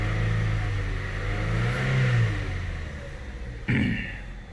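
A car engine at raised RPM produces a steady mid-pitched drone with slowly rising and falling revs, close and fairly loud. Near the end comes a sharp knock or clunk.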